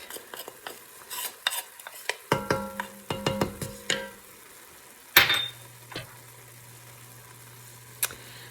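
Ground meat with minced garlic frying in a pan, a run of sharp clattering spoon and pan knocks followed by a loud clank and a quieter low sizzle with a few stray taps.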